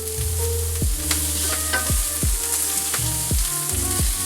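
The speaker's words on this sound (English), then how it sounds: "Now we're gonna roll around our asparagus a little bit, make sure it's cooking on both sides." Asparagus sizzles in a hot pan as it is rolled around, a close, bright frying hiss with repeated clanks and scrapes of a utensil against the pan every second or so, no talk.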